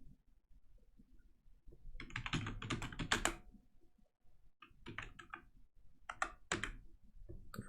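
A command is typed on a computer keyboard: two quiet bursts of rapid, irregular key clicks separated by a brief pause, close and soft, with no talking.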